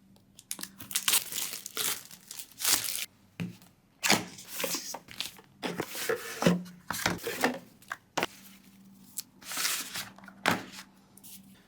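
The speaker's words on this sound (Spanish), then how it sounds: "Vamos a desempacar este dispositivo." Crinkling and rustling of packaging as a DJI Osmo Pocket 3 camera is unboxed, close and intermittent with bursts of crumpling and rubbing separated by short pauses, no talk.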